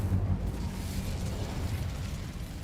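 The Incendio fire spell in Hogwarts Legacy erupts as a deep, rumbling burst of flame that roars loudly and then keeps burning as a steady crackling whoosh, with no voices.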